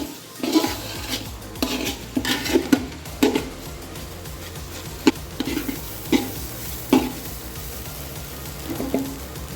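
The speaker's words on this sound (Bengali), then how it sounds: "এবার আমরা ভালো করে চালটাকে এই মশলার সঙ্গে মিশিয়ে নিয়ে" Rice being stirred with spices in a pot for Dhakai-style hilsa pulao, a utensil repeatedly scraping and clanking against the metal, with a low faint sizzle underneath and no talking.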